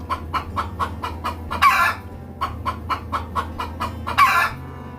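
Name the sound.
chicken clucking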